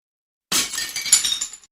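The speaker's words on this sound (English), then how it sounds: "The last plate cracked. The last saucer broke." Ceramic plate and saucer cracking and breaking in a kitchen: a sudden loud crash after silence, then a brief scatter of clinking, rattling shards that trail off within about a second.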